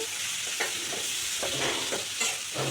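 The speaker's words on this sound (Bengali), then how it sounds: "টমেটো দিয়ে আমি ভালো করে এটাকে মিক্স করে নিব" Tomato stirred and fried with spices in hot oil, a steady close sizzle with soft scraping strokes of the spoon recurring every half second or so, no talking.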